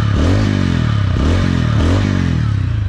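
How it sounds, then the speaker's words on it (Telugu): A 2025 TVS Ronin motorcycle's engine and exhaust rumble close and loud, a steady low thrumming pulse with repeated small throttle swells, heard alone. "మీరు ఒకసారి ఇంజన్ ఎగ్జాస్ట్ సౌండ్ మీరు వినండి."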